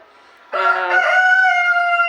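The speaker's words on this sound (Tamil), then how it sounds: "என் சேவம் கத்திக்கிட்டே இருக்குது" A rooster crows once, loud and close, a sustained harmonic call starting after a brief quiet lead-in and holding steady to the end.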